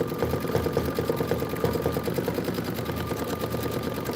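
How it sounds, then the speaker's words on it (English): A computerized embroidery sewing machine stitches a tiling scene design on fabric in matching-color thread, a steady rapid mechanical chatter running continuously and close at a constant level. "this is 19 minutes of stitching"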